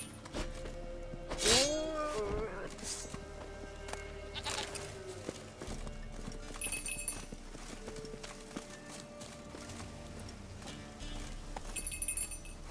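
Hooves clip-clop steadily from Roach, the horse in The Witcher 3: Wild Hunt, with a bleating animal cry near the start, a shattering crash, and faint game ambience underneath.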